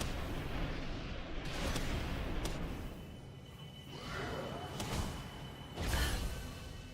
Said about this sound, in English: Exploding pretty strong.